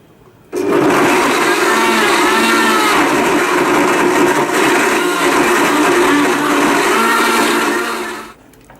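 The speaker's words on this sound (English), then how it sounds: "Blend this on high for 30 seconds" A blender running on high, whirring through a smoothie of honey and fruit, starts abruptly and holds a loud, steady, dense roar for about eight seconds before cutting off, with no talking.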